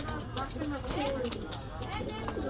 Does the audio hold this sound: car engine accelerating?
no